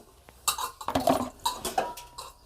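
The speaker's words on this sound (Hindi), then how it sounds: "मम्मी ने यहाँ पे बर्तन वॉश किए थे और अभी इस पानी से ये खेल रहा है।" A small child plays with freshly washed metal pots and water, setting off irregular clinks, clanks and splashy knocks in quick clusters, close by with no talk.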